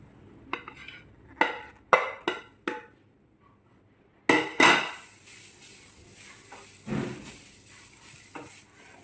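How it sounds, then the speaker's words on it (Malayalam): Grated coconut tipped into a kadai and stirred with a spatula, several sharp scrapes and clanks against the pan, then a burst of sizzling with scattered stirring strokes, close and no talk. "ആ തേങ്ങ ഇട്ടൊന്ന് വറുത്തെടുക്കാം."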